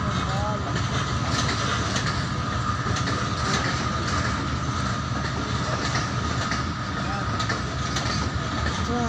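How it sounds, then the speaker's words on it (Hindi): A passenger train rolls steadily through Attock station, its wheels and carriages producing a continuous loud rumble with rhythmic clatter and faint squeals throughout, while a voice talks over the noise. "ये आज गड्डियाँ जनाब रेल गड्डियाँ ये जा रही है पेशावर।"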